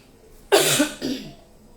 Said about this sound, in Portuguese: eu tô com um negócio de uma tosse